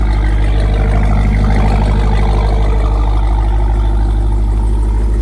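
Dodge Durango SRT running after being started, a loud, steady deep engine drone with a constant low rumble and no talking.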